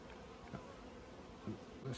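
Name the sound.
honey bees buzzing at hive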